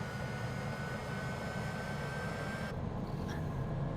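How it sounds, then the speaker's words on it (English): Aircraft engine starting up, heard from outside the plane in Microsoft Flight Simulator 2020: a steady broadband roar with a faint high whine that cuts off partway through, the noise continuing alone at moderate level. "I've never listened to that engine start up outside."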